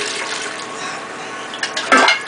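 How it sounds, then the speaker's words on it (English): Juice from cooked pineapple skins and rinds is strained, giving a steady rushing pour of liquid that ends in a short, louder splash. "what I'm going to be doing now is just doing a quick strain of my pineapple juice"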